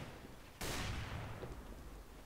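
A suppressed pistol fires in a video game, one sudden sharp burst of noise whose tail fades slowly, fairly faint and without talk.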